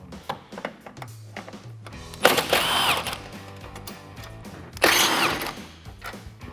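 A power tool runs in two short bursts while 10mm headlight bolts are removed from a 2014-2015 Chevrolet Silverado 1500, with quieter mechanical clicks and handling noises between them.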